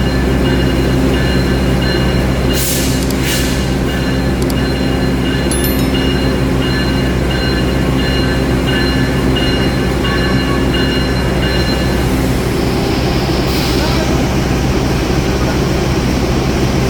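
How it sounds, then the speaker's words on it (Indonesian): A locomotive rumbling slowly along the tracks toward the Purwojaya train carriages, a loud continuous low drone with occasional metallic squeals and clanks, no talking. "pergerakan lokomotifnya juga sudah akan mendekati ke rangkaian kereta Purwojaya ya"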